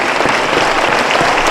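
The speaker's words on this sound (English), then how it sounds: "can I request a huge thunderous round of applause for General Chauhan" Audience applause for a podcast guest, General Anil Chauhan, Chief of Defence Staff of India, at a live event; dense, steady clapping from a full room fills the whole short stretch at an even level.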